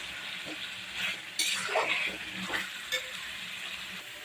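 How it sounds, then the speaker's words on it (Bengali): Meat is stir-fried slowly in a pan with a soft, steady sizzle and intermittent scraping and stirring strokes, recorded close up with no talk. "আস্তে আস্তে কষাতে হবে খুব জোরে না আস্তে আস্তে কষাতে হবে"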